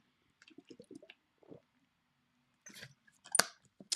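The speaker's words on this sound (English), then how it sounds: "Let me drink some water." A person drinking water, with quiet wet sips, gulps and mouth sounds in short bursts separated by silence, ending in a louder swallow, close to the mic with no talk.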